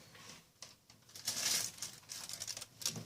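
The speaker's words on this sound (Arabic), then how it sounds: "هنحطها في الكيس بتاعنا" Plastic bag crinkling and rustling as layered pastry dough is slid inside, a close, soft run of crackling handling noises building in the middle and tapering off.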